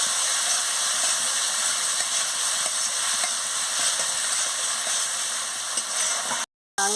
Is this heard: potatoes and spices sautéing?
yes